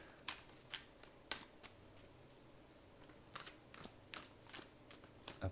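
Quick bursts of tarot cards being riffled and shuffled, crisp papery flutters in uneven clusters, close and fairly quiet with short pauses between.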